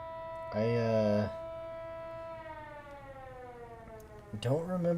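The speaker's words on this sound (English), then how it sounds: "don't remember hearing that alarm before" An alarm siren in the Schedule 1 video game sounds a loud, sustained wailing tone whose pitch slowly falls, then bursts out again near the end.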